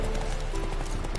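Galloping hooves of Geralt's horse Roach in The Witcher 3, a fast, steady clip-clop rhythm carried continuously at close range over a low rumbling game background.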